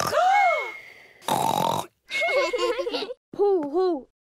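A cartoon pig character in Peppa Pig imitates snoring with voiced, grunting snorts in several bursts, loud and close, alternating with a child-like voice.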